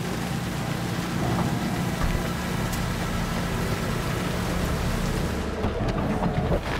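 Heavy rain pours steadily in a Cyberpunk 2077 game scene, a dense continuous hiss with a deep thunder roll rumbling underneath throughout.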